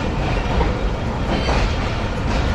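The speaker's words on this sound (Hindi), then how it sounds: "खानेवाल जंक्शन के प्लेटफॉर्म नंबर 2 पे लिया है जी 40 डाउन जाफर एक्सप्रेस को" The 40 Down Jaffar Express stands at platform 2 of Khanewal Junction, giving off a steady, loud rail rumble with faint clattering, continuous and without talk.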